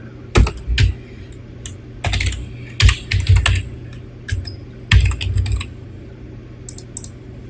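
Typing on a computer keyboard to enter a user ID, a close run of sharp key clicks in irregular bursts with short pauses between them, no voices.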